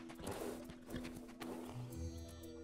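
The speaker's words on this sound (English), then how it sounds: "You didn't tell me you had a donkey." A stray donkey's hooves clop and shuffle nearby amid busy background sound, with low snorting and braying-like animal noises rising toward the end.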